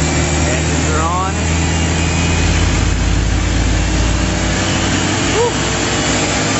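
Loud, steady roar and drone of diesel-fuelled jet truck engines running at close range, a constant heavy rumble throughout with brief voices and whoops over it.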